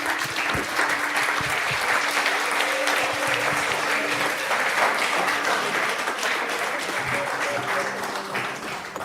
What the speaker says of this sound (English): Please join me in welcoming him with a big round of applause.